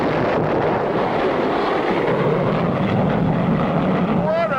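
A cartoon rocket blasts off with a loud, continuous roaring rush of noise that swells slightly and ends with a rising whistle-like tone.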